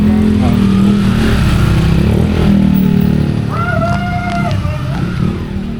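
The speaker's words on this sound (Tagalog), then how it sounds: "Ganda ng motor, oh." A motorcycle engine runs close by for several seconds, then revs and pulls away at a rural Mindanao coastal spot, with a steady low drone and a rising tone near the end; people talk faintly underneath.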